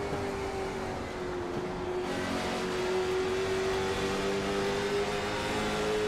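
Race car engine heard onboard the number 54 car in a racing sim at Nashville Fairgrounds, a steady droning tone that climbs slightly in pitch, close and continuous with no talking.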